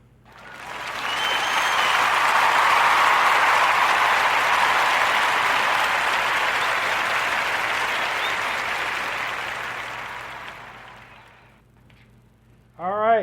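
Canned-sounding audience applause on a podcast rises quickly into a full, even roar of clapping, sustains for several seconds, then fades out before a brief sound at the very end.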